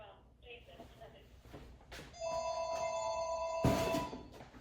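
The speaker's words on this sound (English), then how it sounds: "So, phone's ringing." A telephone rings in a quiet workshop at a sprint car business, its electronic trill bursting loud and steady after a few soft knocks and background shuffling.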